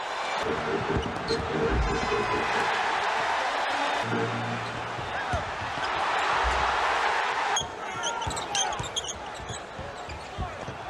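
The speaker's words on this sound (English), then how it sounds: "Bernard King, and listen to this crowd." A packed basketball arena crowd roars for Bernard King's shot and foul, a broad sustained cheer filling the space while a play-by-play announcer talks over it and a ball bounces on the court.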